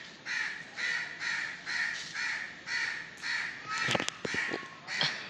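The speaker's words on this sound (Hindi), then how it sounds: "ये कौवे भी इधर ही होते हैं।" Crows caw repeatedly near their nest in a tree, a steady rhythmic series of loud harsh calls about every half second, with a few sharp clicks near the end.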